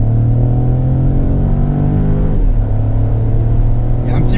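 The 1.2 PureTech three-cylinder engine in a Peugeot 2008 GT with EAT8 automatic accelerates in normal drive mode, a loud, steady, close engine drone with rising tones, heard from inside the car.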